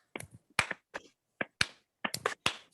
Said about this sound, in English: let's take this time to give Devaron a slow clap on the count of 3